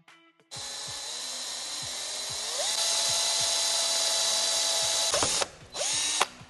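Power drill boring into a metal part with a thin bit: a high whine spins up, holds steady for a few seconds, then stops and briefly restarts, close and loud with small mechanical clicks.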